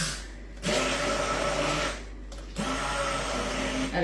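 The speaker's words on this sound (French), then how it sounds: "On va déjà, voilà, mixer ça." A kitchen blender purees a raw salmon and shrimp mixture in loud whirring bursts, cutting out briefly twice before starting again, with no talk over it.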